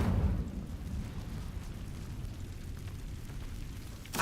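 Incendio fire spell cast in the video game Hogwarts Legacy, a short whooshing burst of flame at the start that trails into a low rumbling crackle, fairly loud and alone.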